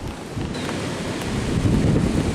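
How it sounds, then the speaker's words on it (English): Strong wind buffets a microphone outdoors in a garden, a steady loud roar with gusts that swell toward the end, and no voices. "sorry about the sound out here. The wind's terrible."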